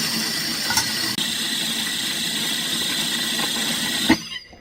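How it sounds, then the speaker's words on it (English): A kitchen blender whirs steadily while blending tahini paste for hummus, a loud continuous motor drone that ends abruptly as it is switched off, with no talking. "So I'm going to blend this again. Get that blended."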